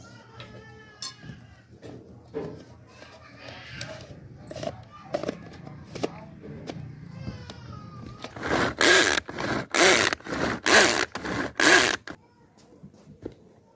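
A grinder blitzes a garlic and chilli masala in several loud, short bursts near the end, each burst separated by a brief pause, after a quieter stretch of light kitchen clatter and handling.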